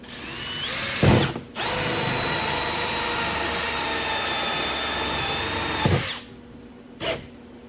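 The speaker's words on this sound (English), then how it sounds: "we're gonna drill our hole about here" Power drill with a hole saw boring into a plastic tank, a loud steady close whine lasting about five seconds, with brief revs just before and after.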